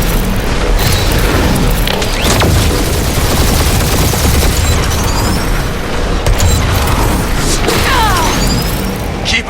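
Sustained gunfire barrage with booms and mechanical clatter in a Guardians of the Galaxy video game battle, loud and dense throughout with scattered blasts and crashes.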